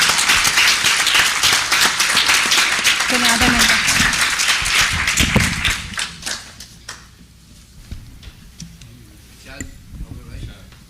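At a mushaira poetry gathering in Dhahran, an audience bursts into loud, dense clapping to welcome the poet Dr. Popular Meeruthi; it holds for about five seconds, then thins into scattered claps with a voice in the background.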